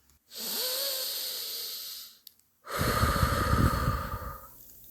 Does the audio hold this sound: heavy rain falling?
no